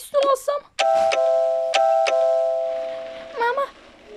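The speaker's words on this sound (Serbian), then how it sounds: "neko zvoni." A two-tone doorbell chimes inside the Toca Life World video game, ringing several times in quick succession with clear ringing tones, framed by brief voices at the start and end.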